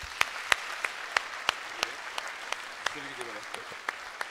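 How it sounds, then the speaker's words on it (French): Scattered audience applause at the 2015 New Year wishes ceremony of the mayor of Fourmies: a steady run of sharp, separate hand claps at a moderate distance, with faint voices murmuring underneath toward the end. "On va quand même l'applaudir, même si elle n'est pas là"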